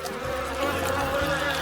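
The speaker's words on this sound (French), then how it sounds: "Oh non, il y a tellement d'abeilles." Dense buzzing from many bees swarming around honey fills the scene, a loud, steady drone close by with no voices over it.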